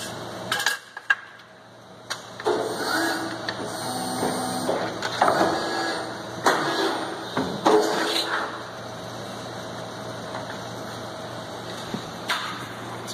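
A metal roofing machine feeds thin steel slivers and bends hems on them. Its clanks, scrapes and metallic knocks come in irregular bursts over a steady mechanical hum in a workshop.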